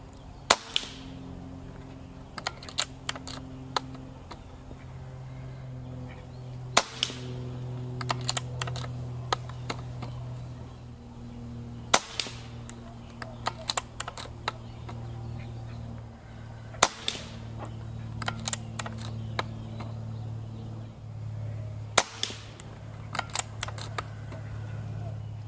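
A Gamo Urban air rifle fires at targets, each shot a sharp crack that comes several seconds apart over a low background hum, with people talking between shots.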